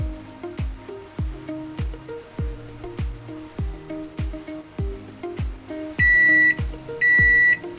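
Two bright electronic beeps from an appliance sound near the end over steady rhythmic background music.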